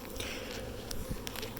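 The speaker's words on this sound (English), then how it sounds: "I noticed there was a buzzing and a bunch of bees around this tree." Swarm of honey bees buzzing around a tree, a faint steady insect hum with brief sharper passes and a few soft taps, no speech.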